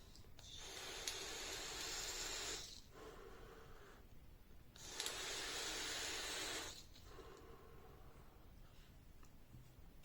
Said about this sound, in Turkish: ohm alıyorum 62 wattta hava kanalları tamamen açık şu anda şöyle bir buharlayalım